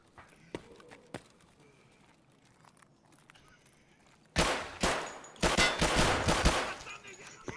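Gunshots fired at a scav in the video game Escape from Tarkov. After a quiet stretch with scattered faint clicks, several loud, close shots and bursts crack out in quick succession.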